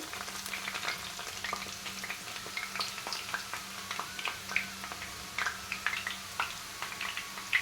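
Omapodi sev dough frying in hot oil, a steady crackling sizzle with dense popping bubbles throughout, close and continuous with no talk.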